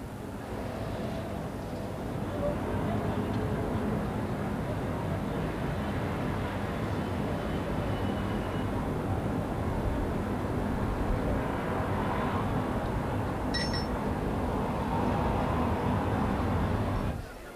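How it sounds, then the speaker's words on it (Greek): A steady, broad roar of an airplane engine holds for the whole stretch, loud and constant without pause. "Αεροπλάνο."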